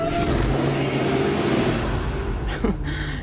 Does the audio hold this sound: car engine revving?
yes